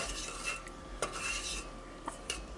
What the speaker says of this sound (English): stir constantly until it thickens to heavily coat the back of a spoon